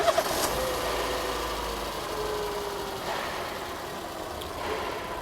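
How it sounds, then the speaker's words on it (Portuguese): A car engine cranks and catches at the start, then settles into a steady idle, heard close with no talk. "Vamos ligar o motor então."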